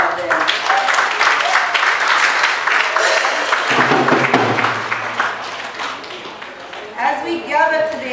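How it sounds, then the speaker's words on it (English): Mourners at the funeral service of Earlene Foster Boothe break into sustained applause. Later, voices and tonal sounds rise through it as the clapping thins toward the end. "we have to applaud them"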